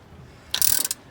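Ratchet tightening a rocker arm on a small-block Chevy 350 engine in a 1979 Squarebody: a short burst of rapid, close metallic clicks lasting about half a second, loud against a quiet outdoor background with faint wind.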